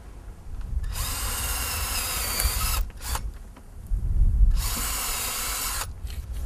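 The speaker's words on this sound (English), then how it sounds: "we're going to take a 3/16 drill bit and we're going to drill a hole" A power drill with a 3/16-inch bit whines at high speed drilling a pilot hole, in two long bursts with a brief rev between them and low rumbling through the pauses; close up and loud.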